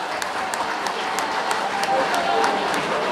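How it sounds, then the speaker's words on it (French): An audience at a charity gala claps steadily for the president, a dense, continuous applause with rhythmic hand claps standing out, while a voice speaks over it. "Est-ce qu'on peut applaudir très fort la présidente"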